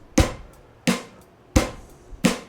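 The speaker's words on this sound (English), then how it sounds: "You can hear my drum set in the background." Four evenly spaced, sharp drum hits from a drum set, each with a quick attack and short decaying ring, sounding clearly in a quiet room with no talking.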